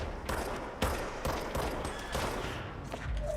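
Gunfire from behind the player in the shooter Control Resonant, with sharp shots cracking in an irregular volley of several bursts over about three seconds.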